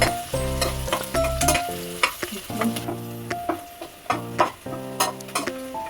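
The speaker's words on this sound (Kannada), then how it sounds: "ಸ್ವಲ್ಪ ಬ್ರೌನ್ ಆಗೋವರೆಗೂ ಫ್ರೈ ಮಾಡಿ." Mushrooms and spices fry in butter and garlic in a pan for a palak rice dish, with a soft sizzle under repeated scraping and clinking strokes of a spoon stirring close by.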